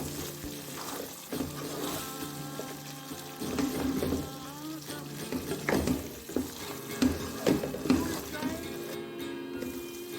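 A spoon stirs brinjal masala in a frying pan, making scraping and shuffling sounds in short bursts over a soft sizzle. The sounds are fairly quiet and close, with some clinks against the pan.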